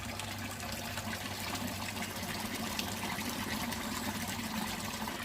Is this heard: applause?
no